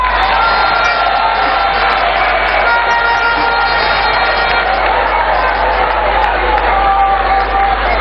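Outdoor political rally crowd clapping and cheering, a loud continuous roar of many voices and hands, densely layered and sustained for the whole stretch.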